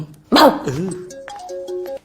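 A voice imitates a dog barking with one loud, sharp bark-like yelp, followed by a few quieter, thin beeping tones.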